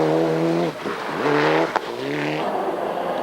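Mitsubishi Lancer rally car at Rally New Zealand in 1997, driving a forest stage with its engine rising and falling through gear changes, close and loud, with a sharp pop partway through.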